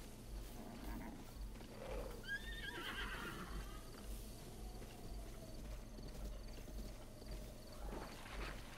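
A wild horse whinnies in Zelda: Breath of the Wild, a quavering neigh over a steady low ambient rumble, with faint hoofbeats and game background sounds around it.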